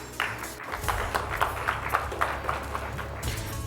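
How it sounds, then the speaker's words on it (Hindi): Audience applause at a Sanatan Sammelan gathering as Advocate Hari Shankar Jain is welcomed to the stage: sustained, dense clapping from a large crowd, steady and loud throughout with no voices over it. "हरिशंकर जैन जी, जोरदार तालियां।"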